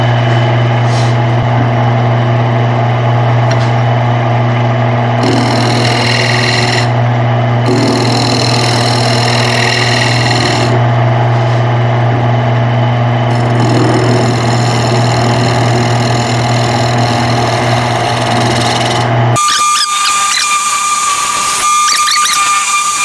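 Wood lathe running with a steady tonal motor hum while a scraper makes light feathering cuts on a burnt-wood bowl turned from scrap, the soft scraping rising in repeated bursts before the sound shifts near the end.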